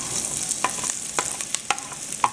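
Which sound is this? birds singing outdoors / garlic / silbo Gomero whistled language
garlic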